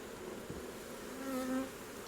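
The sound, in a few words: honey bees buzzing during a beehive inspection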